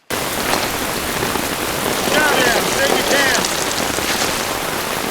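Steady, dense rain pours onto surfaces in a scene from The Pacific war series, a loud, continuous hiss with faint brief chirping tones partway through and no clear speech.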